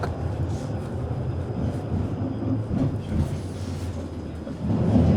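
Silesian tram riding through Bytom, a continuous low rumble and rattle heard from inside, steady with slight swells in loudness.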